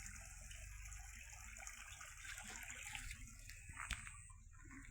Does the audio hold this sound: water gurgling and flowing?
yes